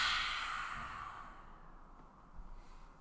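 A forceful yoga fire-breath exhale rushes out close up, a loud airy whoosh that fades over about a second and a half, followed by quiet breathing.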